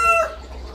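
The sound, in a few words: chicken clucking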